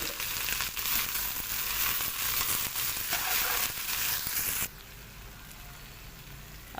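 Okra masala sizzles and fries in a pan while being stirred, a dense continuous crackle that drops to a quieter sizzle partway through.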